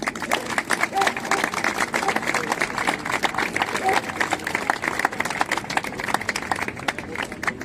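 Steady, dense applause from a crowd at a pensioners' rally in Spain, sustained clapping at even loudness throughout with no break.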